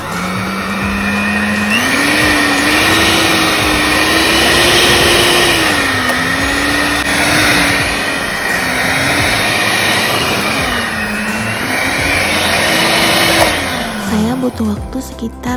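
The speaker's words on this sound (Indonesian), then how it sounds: "kita lanjutkan dengan menggunakan mixer" An electric mixer kneading bread dough with margarine for a loaf of white sandwich bread, a loud steady motor whine with a wavering pitch as the beaters labor through the dough, running continuously up close.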